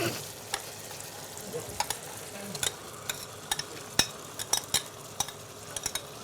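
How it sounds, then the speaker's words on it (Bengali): Marinated chicken poured into a pan of simmering gravy and stirred, giving a steady low sizzle with scattered sharp utensil clicks and scrapes against the pan, with no voices. "এখন আমরা এটার ভিতরে চিকেন দিয়ে দিব চিকেনটা ম্যারিনেশন করা চিকেনটা আমরা ঢেলে দেব"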